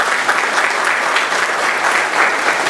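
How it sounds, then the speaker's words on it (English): An audience at a Veterans Day celebration bursts into sustained applause, a dense, even wash of many hands clapping close by, with no voices standing out. "So I think the King family deserves another round of applause for that."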